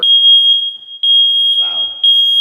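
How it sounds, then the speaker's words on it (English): A smoke detector sounds its test alarm during a final home walkthrough: a loud, piercing high-pitched beep repeating in roughly half-second pulses, with a person briefly talking underneath. "it's also important to test all of the smoke detectors and the CO detectors"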